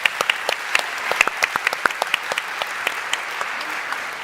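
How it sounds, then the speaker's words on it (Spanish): A conference audience at Congreso Futuro gives applause, with sparse, distinct claps ringing out over a softer wash of clapping that gradually thins. "un aplauso para ellos"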